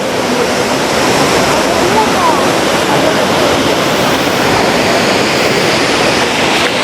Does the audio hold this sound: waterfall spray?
yes